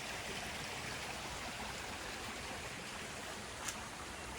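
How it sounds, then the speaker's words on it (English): Forked creek running past an old Prohibition-era whiskey still in the Catoctin Mountain woods. A continuous, even wash of flowing water holds steady with no voices. "You can see this creek kind of forks and divides over here"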